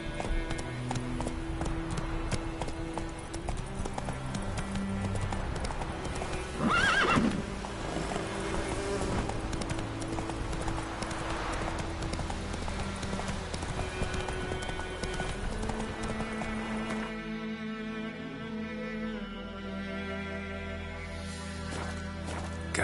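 Roach the horse gallops in The Witcher 3, steady close hoofbeats running through most of the stretch with a whinny partway in, then fading under game music near the end.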